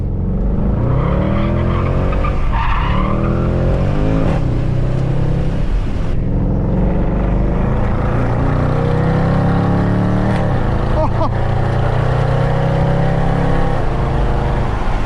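A 550 hp Mercedes C63 AMG slides on a rain-wet road, its engine roaring loud and steady throughout with rising and falling revs and tire noise from the skid, heard close up with no talking.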